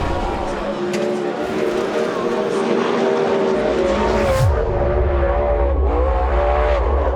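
A sprintcar screams through a qualifying lap at Perth Motorplex, its engine loud and close with rising and falling revs, a brief tire squeal midway, and a commentator talking throughout.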